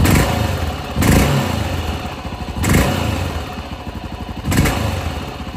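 A motorcycle engine idles loudly nearby with a steady chugging rumble, swelling in three brief revs.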